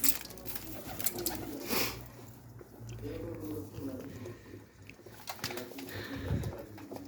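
Low pigeon cooing murmurs in the background while a person talks and calls out over it.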